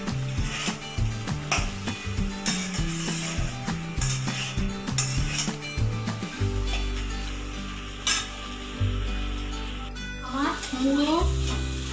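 Fish head curry with potato, rice and spices is sautéed in a pan for Bengali muri ghonto, with rhythmic scraping and stirring over a steady sizzle, close and fairly loud, and a brief voice near the end.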